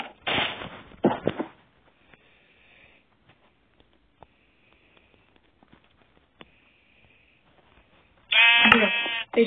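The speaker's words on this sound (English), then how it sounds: "Sheep." A sheep in the Minecraft video game lets out one loud, close, wavering bleat near the end, after soft rustling and scattered faint taps.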